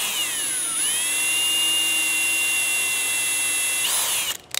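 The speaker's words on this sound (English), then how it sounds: "I'm going to move it forward and hopefully drill through without pulling out a bunch of wood." A power drill whining steadily as it bores through a wooden gun stock for a colonial rifle kit, its pitch sagging under load and rising again before it stops, close and loud with no talk.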